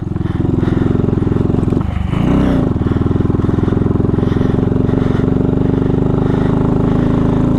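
A tiny motorcycle straining in first gear through slippery mud, its engine droning loud and strained and close up the whole time. A brief dip and wobble partway through sounds like the bike bogging before it pulls on again.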